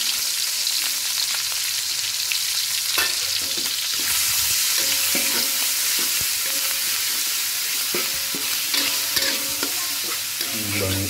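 Galangal, shallots, garlic and turmeric fry in a pan for a jackfruit curry, giving a steady close sizzle under repeated scraping stirs and light clinks of a utensil throughout.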